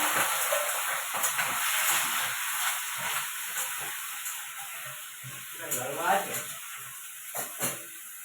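Ash gourd pieces frying in oil with lentils and chilies, a soft continuous sizzle and hiss with occasional stirring clatters, fairly close and moderately quiet.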